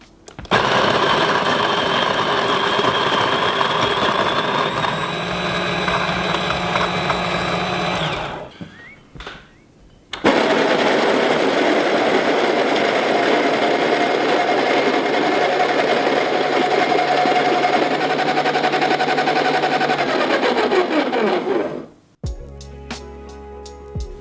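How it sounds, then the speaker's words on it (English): Two burr coffee grinders, a Wilfa Svart and a Baratza Encore, each grinding a 30-gram dose of beans: a loud steady motor whine with gritty crunching, one run of about eight seconds and a second longer run, separated by a brief pause. "I'm going to dose 30 grams of coffee into each grinder and see which one grinds it the quickest."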